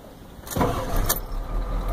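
A 1993 Ford F-250 with a 7.3L IDI diesel engine and a glow-plug problem cranks and catches about halfway through, settling into a low, steady idle rumble nearby.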